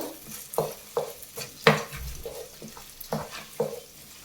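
A spoon stirs ghee in a cooking pot in a series of soft scraping strokes at a steady pace, with a faint sizzle beneath, close by and quiet.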